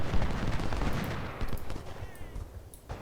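Musket volleys and artillery fire in a Civil War battle video game, a dense ragged barrage of overlapping shots and booms, loud at first and thinning toward the end, with no talk.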